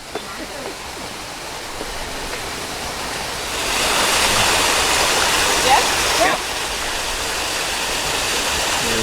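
A waterfall in the Imperial Palace East Garden in Japan, a steady broadband rush of falling water that swells louder midway and stays close and constant throughout.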